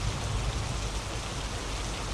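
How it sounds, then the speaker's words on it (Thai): Heavy rain in the mobile truck-driving game Truckers of Europe 3 hisses as a dense, continuous wash, loud and even, with no voices. "วิ่งตอนฝนตกนี่แหละนะครับ"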